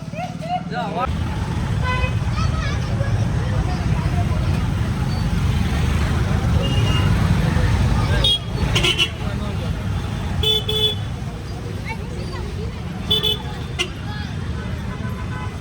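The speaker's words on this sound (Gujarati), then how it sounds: "મંદિરે પણ ટ્રાફિક તો બહુ એટલે બહુ હતો" Heavy road traffic near a temple, a loud steady rumble of cars and buses with several horn toots, people talking over the din.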